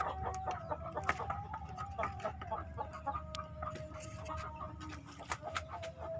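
Chickens on a chicken farm keep up scattered, overlapping clucks and squawks at low level, with an occasional crow and faint voices in the background.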